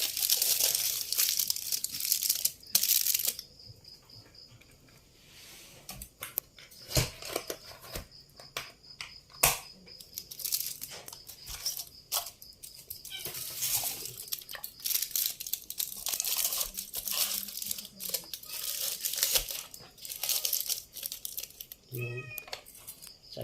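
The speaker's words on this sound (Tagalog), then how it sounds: "atin po babalutin ng foil para atin na pong i-steam" Aluminum foil crinkles and crunches in bursts as chicken is wrapped for steaming for a maling-style dish, with a voice speaking over parts of the handling.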